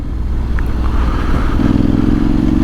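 A custom Honda X-ADV 750 scooter cruises on the road near the port of Gennevilliers, its engine droning loud and steady with a rumbling low tone, rising slightly in pitch partway through under constant wind noise.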